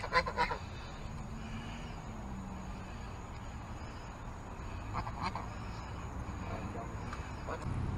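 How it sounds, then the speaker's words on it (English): Geese honking outdoors at a fishing spot over a steady low rumble, with a few sharper calls near the start and again toward the end. "Aiden, leave them geese alone, buddy"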